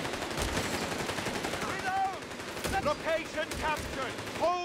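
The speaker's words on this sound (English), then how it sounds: "Oh man, scouts and rifles suppressed by this MG34." Bursts of MG34 machine gun fire in Company of Heroes 3, rapid rattling volleys mixed with other battlefield gunfire, under excited commentary from a caster.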